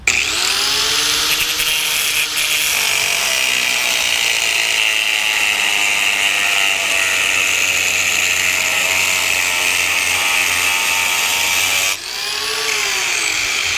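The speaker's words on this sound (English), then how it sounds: "We're going on to the second cut with a brand new cutting disc." A brand new cutting disc bites into steel along a marked line, producing a loud, continuous grinding whine that holds steady for about twelve seconds, breaks off briefly, then starts up again.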